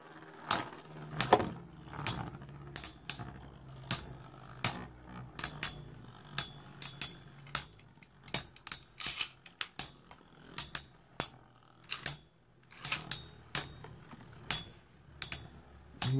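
Beyblade spinning tops clash in a battle arena with sharp, irregular clicks and metallic taps, some in quick bursts and others spaced out, close and distinct over a quiet background.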